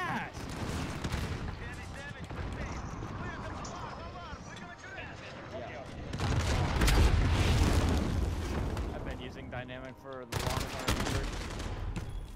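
Rapid gunfire and bursts ring out in the video game Modern Warfare, with a Striker 45 weapon loadout. The bursts are dense and overlapping, with booming impacts, while a voice talks over the action.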